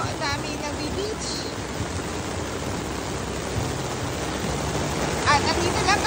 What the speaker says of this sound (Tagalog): Lakas ng ulan dito, oh.